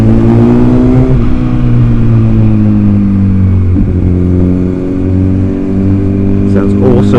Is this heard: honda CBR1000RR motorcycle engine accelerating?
yes